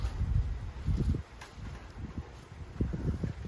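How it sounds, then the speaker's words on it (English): Gusty north wind buffets a backyard garden where Everglades tomato plants are strung up, low rumbling microphone gusts rising and falling in short bursts, with no talking. "They're getting really wind blown right now."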